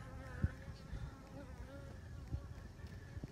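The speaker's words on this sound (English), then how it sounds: "And these worker bees are taking care of them and feeding them." Honeybee worker bees buzzing at an open hive, a soft steady drone with a faint background hum and a couple of brief low thumps.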